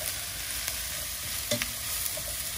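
Mushrooms fry in a pan while being stirred, giving a steady close sizzle throughout with a few soft scraping stirs and clicks of the utensil against the pan.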